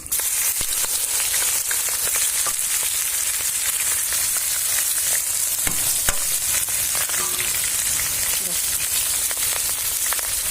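Onions frying in hot oil with sugar and garam masala for a chicken curry, a loud continuous crackling sizzle with occasional spatula scrapes, close and steady throughout.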